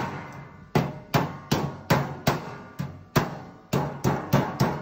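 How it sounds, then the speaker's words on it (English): A flat-faced sheet metal hammer strikes sheet metal about a dozen times in a quick, slightly uneven rhythm. Each blow is a sharp, loud, close metallic clang with a short ringing decay. "That's the purpose of a sheet metal hammer being flat."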